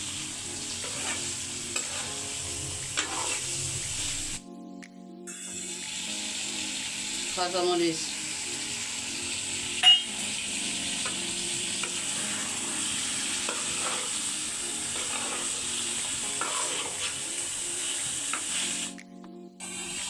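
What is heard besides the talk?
gently stirring gutum fish with spices in pan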